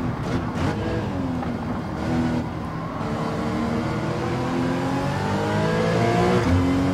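A race car engine in Gran Turismo 7 drones and climbs steadily in pitch, with shifting whine tones layered over a constant loud roar for the whole stretch.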